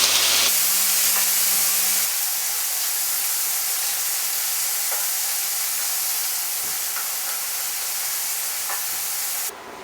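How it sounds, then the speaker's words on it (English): Bacon lardons or pancetta sizzle in a hot pan, a steady bright hiss of frying fat that runs unbroken and fairly loud, with a few faint clicks and no voices. "we can start sweating down our bacon lardons, or pancetta, they'll all work equally well"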